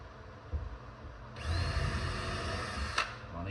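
A power drill pre-drills into a wooden bee hive frame at close range, a steady high motor whine with a brief sharp jolt near the end.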